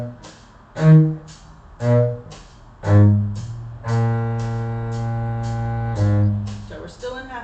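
Cello plays two measures in half position, a string of bowed notes starting detached then a longer sustained phrase, solo and clear with no talking.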